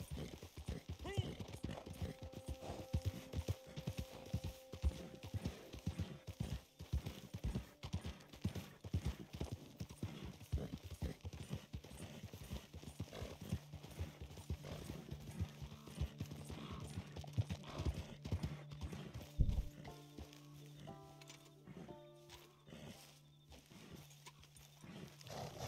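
Horse hooves clip-clop steadily in Red Dead Redemption 2 Online as a weak, scrawny horse is ridden. The hoofbeats are moderately loud and continuous, mixed with game music and ambience, with someone talking over them throughout.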